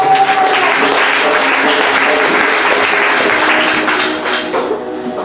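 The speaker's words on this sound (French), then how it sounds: "On acclame le Seigneur" A church congregation applauding, dense sustained clapping from many hands, loud and close, fading slightly toward the end with no talking over it.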